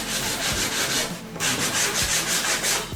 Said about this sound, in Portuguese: É importante que a madeira fique bem lixada